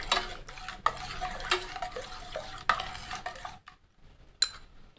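Pumpkin soup stirred in a pot while it heats, with a spoon scraping and clinking against the metal in repeated close strokes, a few sharper knocks and a brief quiet gap near the end.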